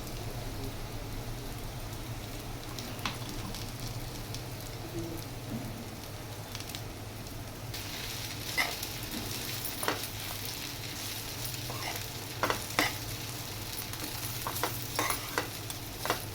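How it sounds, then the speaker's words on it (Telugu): Ivy gourd frying in a pan as spice powder is added and stirred in, a steady soft sizzle with scraping stir strokes and a few sharper clinks, close and moderately quiet, no talking. "ఇప్పుడు ఇందులో ఈ పౌడర్ వేసుకుని కలుపుకోవడమే."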